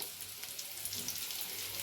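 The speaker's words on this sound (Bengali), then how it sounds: "দেখো ভাজাগুলো কত সুন্দর দেখতে লাগছে।" Pieces of rui fish tokti kabab sizzling in a pan of oil, a steady close crackle with small spits and bubbles and no voices.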